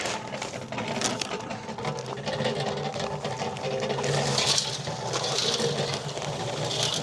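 A concrete mixer churning bagged concrete and water, a steady mechanical drone with a grinding, rattling texture, continuous and fairly close, growing slightly louder partway through.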